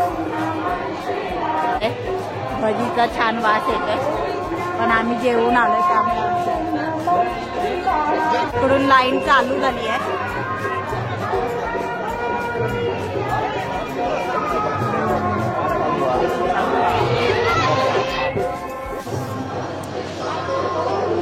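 A dense night crowd at the Ravalnath temple fair in Kankavli keeps up a steady hubbub of chatter and movement, with someone talking close over the babble throughout.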